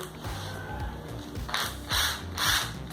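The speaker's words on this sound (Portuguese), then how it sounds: "E fazer o rebaixo para o parafuso" A drill with a countersink bit cuts a recess for a screw in MDF for a mirrored coffee table, a close whirring motor with rising grinding bursts as the bit bites in.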